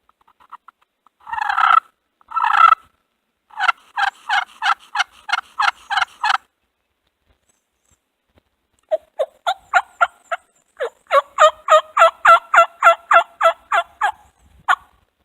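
Wild turkeys gobble at dawn during a spring youth turkey hunt, with loud rapid rattling bursts in two separate runs and a silent gap between them against an otherwise quiet morning.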